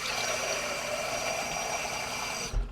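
About two cups of water pour steadily into a pot of vegetable gravy, making a soft, continuous hiss that ends abruptly with a small clunk.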